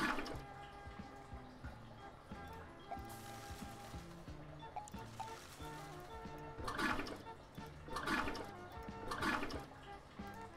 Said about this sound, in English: Click the toilet handle to flush.